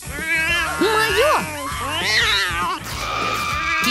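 A cartoon character voices a series of drawn-out, bending cat meows and caterwauls at a rich private school, loud and close, a voice imitating a cat.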